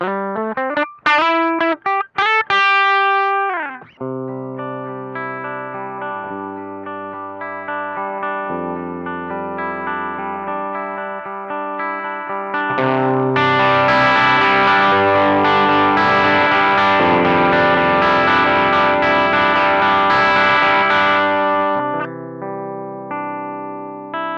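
Electric guitar played through a BOSS BD-2W Blues Driver overdrive pedal. A few quick notes lead into clean-ish sustained chords, then harder picking pushes it into thicker, crunchier distortion before it eases off.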